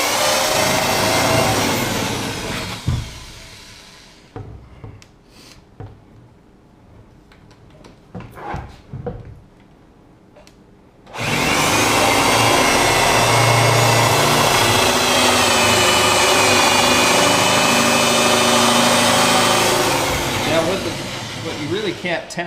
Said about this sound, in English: do the old spade bit. Just so you can see the difference on how it acts in hardwood here